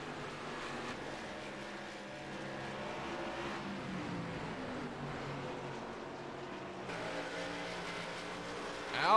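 Race cars, the 96 and the 71, run on a track in a broadcast replay, giving a continuous roar of engines that builds and surges near the end, with no commentary heard.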